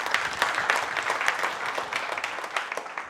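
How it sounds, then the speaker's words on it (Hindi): An audience at a political gathering applauds, a dense burst of close, steady clapping that fills the moment without any voices. "लोगों के लिए जोरदार तालियां हो जाए एक बार।"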